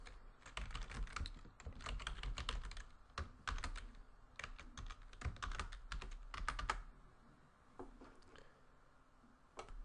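Quick bursts of clicking keystrokes on a computer keyboard while writing Java code, close and fairly quiet, with brief pauses between clusters of taps and no voice.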